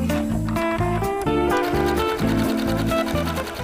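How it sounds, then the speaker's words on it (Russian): Sewing machine stitching seams with a linen-style or French double seam on a garment after the neckline is finished, running steadily in a loud, even rhythmic chatter with a brief pause partway through and no talk. "теперь мы сшиваем все остальные швы тем же бельевым или французским"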